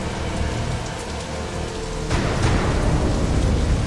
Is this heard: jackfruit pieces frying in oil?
no